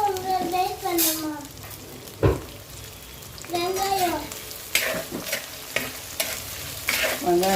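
Onions frying in a pan, a soft sizzle with occasional stirring scrapes and clatter, heard beneath intermittent talking from a woman and a child.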